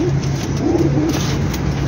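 Pigeons coo in a close, loud run of soft, rolling calls over a steady background hum, with no speech.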